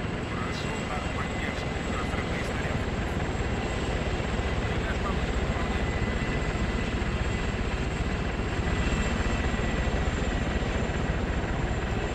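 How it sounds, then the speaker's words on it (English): An Apache gunship helicopter in a tactical shooter drones on without a break, a steady, dense rotor and engine roar that fills the whole stretch at an even loudness. "That's an Apache."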